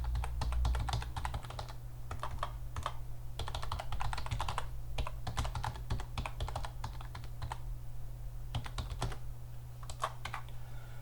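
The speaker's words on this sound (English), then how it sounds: "I just type that in," Fingers type steadily on a computer keyboard, close up, in quick clusters of clacking keystrokes broken by short pauses, over a low constant hum with no voices.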